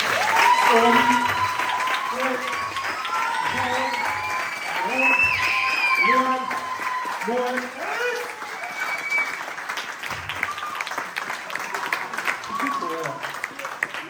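An audience applauds at the end-of-year show of a judo and jujitsu school in Échillais, steady clapping running under a voice on a loudspeaker.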